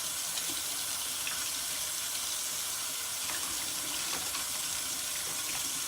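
Tap water running steadily into a sink while sea moss is washed by hand, a constant close splashing wash with faint handling clatter and no talk.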